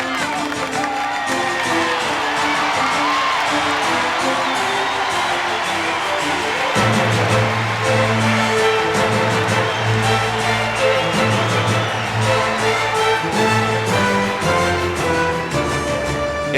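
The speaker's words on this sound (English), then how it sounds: "A Friday night at the fights with a New York crowd ready to spur their main man on." New York crowd at a 1992 US Open night session roaring and cheering, sustained and loud, with music-like tonal layers and a swelling surge partway through.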